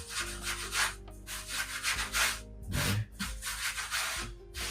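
Baguette dough being rolled and pressed by hand on a work surface, with soft rhythmic rubbing and brushing strokes, fairly close and steady.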